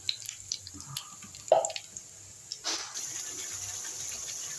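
Mixer-ground spice paste poured into hot oil in a pan while cooking potol alu tarkari. It lands with a wet squelch and splatter close by, then the pan breaks into a steady hiss.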